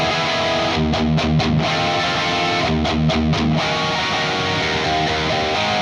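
Overdriven electric guitar from a song, playing a triad that climbs chromatically up to G. Rhythmic stabbed chords ring loud and close with no voices.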